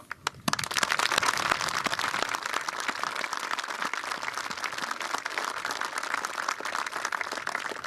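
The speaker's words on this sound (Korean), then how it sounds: "자랑스러운 우리 군 장병들의 노고를 취하며 큰 격려의 박수를 보냅니다." A large crowd at an outdoor Armed Forces Day ceremony applauds soldiers, with steady, dense clapping that starts abruptly and holds at full strength throughout.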